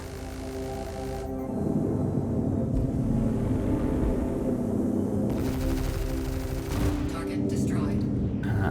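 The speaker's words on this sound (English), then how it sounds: "switch the guns to engage this Buccaneer" Ship guns firing in the Star Citizen space game during a fight against a Buccaneer, a steady loud roar of engine and gunfire filling the whole stretch with sharp shifts in tone.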